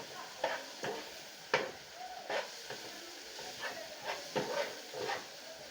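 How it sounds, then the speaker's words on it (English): Omena, small fish, being stirred in a pan during home cooking in Kenya, with repeated scraping strokes of the spoon at an uneven rhythm over a soft background sizzle, close up and moderately loud. "I'm going to mix everything well and cook for 2 minutes."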